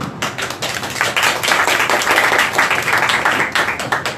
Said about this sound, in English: we have a big applause for Gigi.